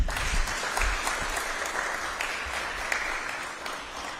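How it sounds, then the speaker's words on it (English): Audience applause at a live televised high school event for a senior student, a dense, steady wash of clapping from a large crowd lasting throughout, with faint cheers mixed in. "Ladies and gentlemen, a round of applause for Mr. Johnson Ailima"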